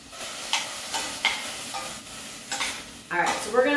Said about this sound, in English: that sizzle means your pan is getting nice and hot, and that water is going to cook the carrots.